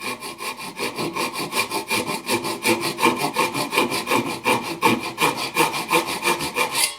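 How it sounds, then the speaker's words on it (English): Hand saw cutting a wooden tenon on a trestle table workpiece, a close, loud, rhythmic rasping of quick regular back-and-forth strokes continuing steadily throughout, with no talk. "I'm going to drop my saw plate right into that knife line"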